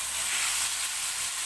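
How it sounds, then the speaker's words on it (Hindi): Cabbage and capsicum hit a pan of frying vegetables with a steady, close sizzle, a bright continuous hiss of oil and steam with no pauses. "अब इसमें मैं डाल रही हूँ बंद गोभी और साथ ही इसमें मैं डाल रही हूँ शिमला मिर्च।"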